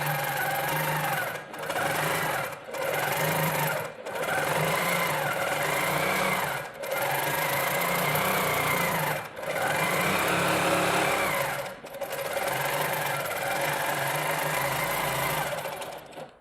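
A sewing machine stitching a test seam with the top thread tension tightened, running loud and close in long steady bursts with short pauses between runs.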